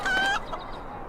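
A chicken in the game Lord of the Rings Online gives a short, bright cluck, followed by a softer trailing note.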